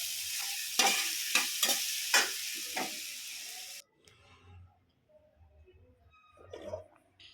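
Coriander powder and red chillies roasting in a pan, giving several loud scraping stirs over a bright sizzle that cuts out abruptly, leaving faint clatter and low background noise.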